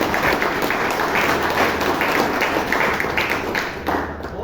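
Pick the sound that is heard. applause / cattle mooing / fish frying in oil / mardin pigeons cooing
applause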